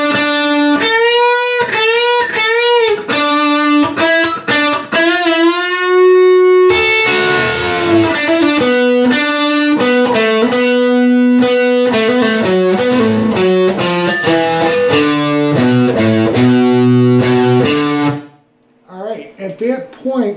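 Distorted electric guitar plays a lick, a long run of quick picked notes and bends with effects, loud and close, ending in a short pause before a brief resumed phrase.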